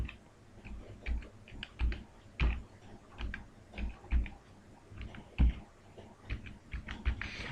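A Gmail password is typed on a computer keyboard, producing quiet, close, irregular key clicks spread across several seconds, with no talking.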